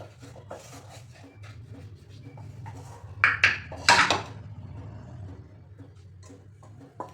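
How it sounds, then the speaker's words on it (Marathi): Steamed rice-flour dough for modak, made from ration rice, is mashed in a pot with a masher, giving soft scraping and rubbing with a cluster of sharper metallic knocks and clinks partway through. "स्मॅशरने स्मॅश करून घ्यायचे पेल्याने केलं तरी चालेल"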